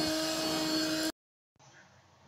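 A Bissell carpet cleaner sucks up water with a loud, steady whine and roar, cuts off abruptly, then after a short silence a quieter, duller vacuum hiss follows.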